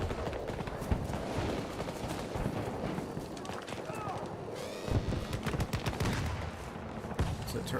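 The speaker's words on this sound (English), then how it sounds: "What's that turret shooting at?" Turret gunfire in a video game, rapid bursts of shots crackling amid a dense, busy battle soundscape, with voices calling out over the continuous shooting.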